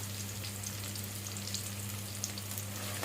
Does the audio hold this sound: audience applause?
no